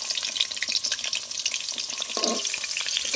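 Pieces of pointed gourd fry in hot oil, a close, continuous bright sizzle with crackles and a brief scrape of stirring partway through.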